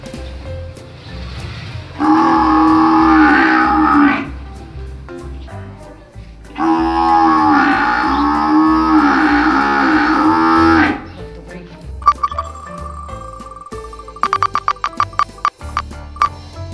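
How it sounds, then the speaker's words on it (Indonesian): A water buffalo lows twice in long, loud, drawn-out calls, each lasting a few seconds with a short pause between, followed by scattered clicks and a steady tone. "Kerbau. Buffalo."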